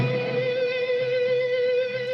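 On a guitar solo, a string is bent up to its target note and held with vibrato, producing a loud, steady sustained tone that wavers slightly.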